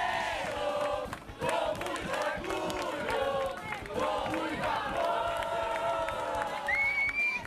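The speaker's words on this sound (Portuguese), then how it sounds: "A torcida fez a sua parte e apoiou a todo instante os nossos atletas." Sports crowd cheering for Brazilian athletes at a competition, a dense, continuous roar of shouts and whoops with rising cries and a brief dip early, loud and sustained throughout.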